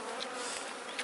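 Italian honey bees swarm over a pollen-filled hive frame, giving a dense, steady buzzing hum that stays close and even for about a second, with no voices.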